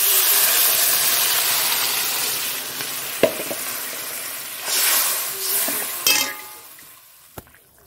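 Water splashed into a pan of frying cauliflower sets off a loud hissing sizzle that fades over several seconds, with a few sharp clanks of utensils near the end.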